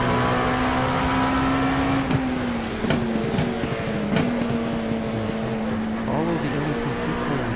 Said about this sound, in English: GT3 cars side by side in front of us going into turn one.